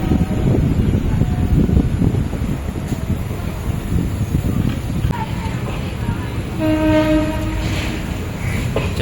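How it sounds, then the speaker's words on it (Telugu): A VAP4 electric locomotive hauling the Kacheguda Express sounds its horn in a few clear steady blasts late on, over a constant loud rumble of the moving train. "ఇదే లోకో మన్ని పుల్ చేస్తుందండి VAP4"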